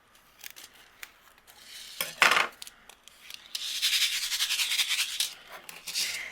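Scissors trim overhanging acetate sheet on a handmade card, giving a few sharp snips and then a longer crisp slicing rustle close by, with no talk.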